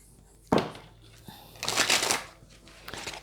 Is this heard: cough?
no